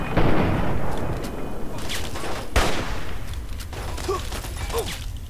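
Gunfire at a raider camp in the video game Fallout 3, with dense, loud bursts of shots and sharp cracks running throughout against a busy background.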